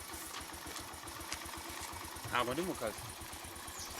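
A motorcycle taxi engine idles with a steady low, pulsing putter, running beneath people talking nearby.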